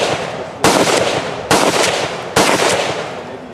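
Three loud shotgun blasts fired at a painting target come at even intervals, each a sharp crack followed by a long rumbling tail, with no voices between shots.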